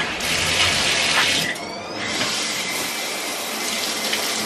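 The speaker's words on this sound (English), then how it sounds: "I feel like I should rinse my back off." Shower water runs steadily and close by as someone rinses hair and back during a hair-care routine, a broad continuous spray with a brief shift in flow partway through and no talking.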